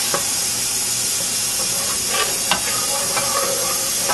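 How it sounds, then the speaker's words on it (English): A flour roux stirred in a pan for homemade tamales, sizzling and hissing steadily throughout, with faint scrapes of the spoon and a few soft clicks standing out close by. "you just keep on stirring it until it browns"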